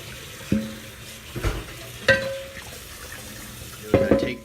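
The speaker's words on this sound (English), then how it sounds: "So then I just rinse the salt out." Tap water runs over a cast iron pan to rinse out salt, with several short splashing bursts of sink water and clatter as the pan is handled, close and fairly loud.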